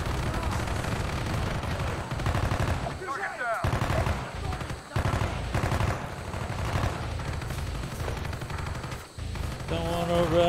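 Shotgun blasts in Call of Duty: Black Ops, loud, booming reports mixed with heavy, continuous battle gunfire, some overlapping bursts and short lulls, with a voice faintly under the action.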